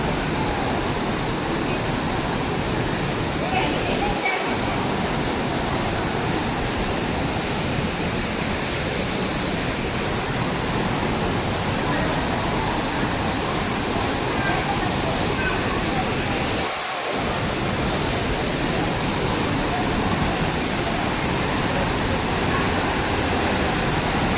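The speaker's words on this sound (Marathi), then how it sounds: "हे धबधबा तुम्हाला बोललेलो ना खाली, हाच तो धबधबा आहे." A waterfall near Mahad roars as a loud, steady, unbroken rush of falling water that fills the whole scene from start to finish, close by, with a voice faintly present under the noise.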